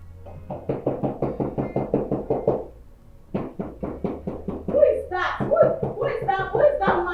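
A rapid series of firm knocks on a door, about a dozen in a row, a short pause, then more knocking mixed with raised voices.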